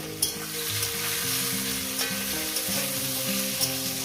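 Chopped onions sizzle and fry in hot oil for a chicken curry, a steady close crackle with a few louder spits and soft stirring, no talking.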